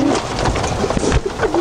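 Pigeons coo nearby in soft, throaty, rolling calls that overlap one another for a moment, with faint background rustle.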